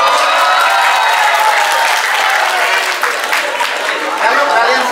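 Students clap together at a boarding school orientation session, a dense, steady wash of hand claps mixed with crowd chatter that carries evenly for several seconds.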